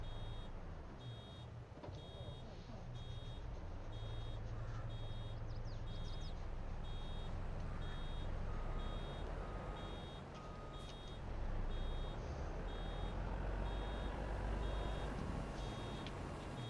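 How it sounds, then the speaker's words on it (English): In a farming video game, a vehicle warning alarm beeps in a steady repeating pattern over a continuous low engine drone, sounding fairly clear above the rumble. "What did I hit that's making the beeping noise?"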